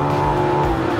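A supercar engine, one of a LaFerrari, Porsche 918 or McLaren P1, pulls hard in third gear through a slow hairpin at Portimao circuit, a loud close roar with a strong tonal drone and no talk.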